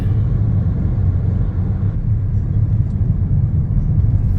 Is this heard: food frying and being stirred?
no